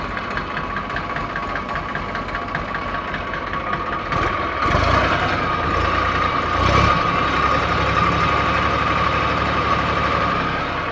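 A 2020 Holland 3037 tractor, a 39 hp one-owner unit with power steering, idles with a steady low diesel chug and faint knocking, close and continuous, getting slightly louder partway through, with no talk.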